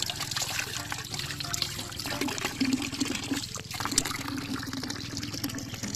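Well water gushes continuously from a hose on a farm, a close, steady splashing and trickling flow with no voices over it.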